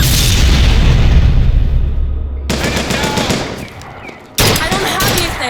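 Rocket explosions and gunfire in BioShock Infinite: a dense barrage of booms and rapid shots, then a sudden cut to sharp bursts and another loud blast, all close and heavy.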